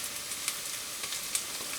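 Steady, close sizzling fills a stew pot as carrots go into cooking lentils, with a couple of soft clicks and faint stirring knocks over the constant hiss.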